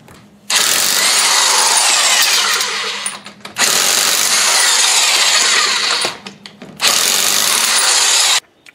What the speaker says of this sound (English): Impact gun made that thing so easy.